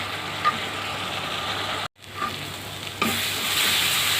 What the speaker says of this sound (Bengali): এখন নেড়ে চেড়ে আমি মশলাগুলো কষিয়ে নেব।